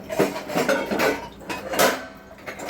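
Metal pots, dishes and cutlery being handled as food is transferred into them, with a series of close clinks, knocks and scrapes in an irregular rhythm and no talking.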